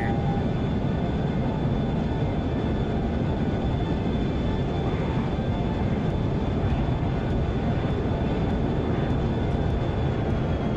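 Loud, unbroken roar of a MiG-21 jet engine in a flight combat video game dogfight, a steady dense rush with a thin high whine held throughout, no talk over it.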